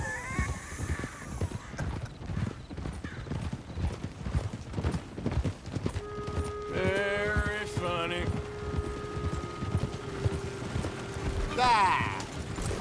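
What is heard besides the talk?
horse hooves, from video game Red Dead Redemption 2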